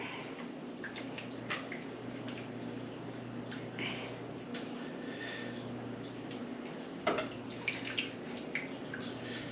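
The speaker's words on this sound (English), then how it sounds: "now we pull it up and let this drip, drip, drip, drip" Oat milk drips from a lifted Almond Cow filter basket, soft intermittent drips and trickles heard close up over a steady low background hum, with a few louder splashes near the end.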